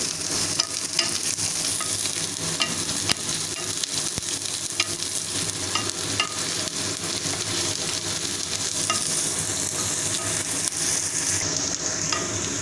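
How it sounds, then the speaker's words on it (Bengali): Garlic paste and onion frying in a pan on a Bengali kitchen stove, a steady close sizzle with scattered clicks and scrapes from a spatula stirring throughout, no voices. "রসুনটা দিয়ে আমি একটু ভাজবো"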